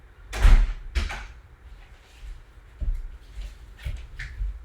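A house door being shut after a postman delivers the mail: a loud close and thud near the start, followed by quieter knocks, rattles and handling bumps, with no talk.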